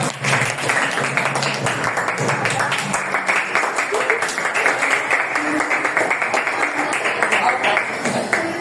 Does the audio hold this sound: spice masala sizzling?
no